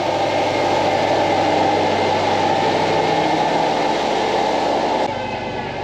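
A reinstalled Subaru Forester EJ25 engine runs steadily, a smooth continuous hum and drone that holds evenly throughout and drops slightly in level near the end, with no talking.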